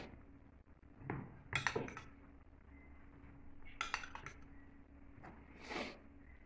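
A spoon stirs curd into an ullivada batter in a bowl, making quiet scattered clinks and soft wet scrapes in a few bursts against a faint background hum.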